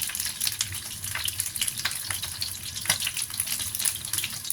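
Shrimp frying in hot oil for dry-fried shrimp, a close, continuous sizzle with sharp crackles and pops and no voices.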